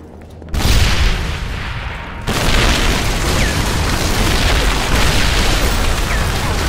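An ammo dump blows up in the World War II shooter Medal of Honor: Airborne, with a sudden loud boom followed by a second blast and a long, roaring rumble of debris and fire.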